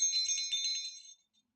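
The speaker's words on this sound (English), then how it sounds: "It is a really big bell, and it rings so loud and so clear." A large bell rings loud and clear with a bright, sustained metallic tone that fades out after about a second, heard alone with no talk.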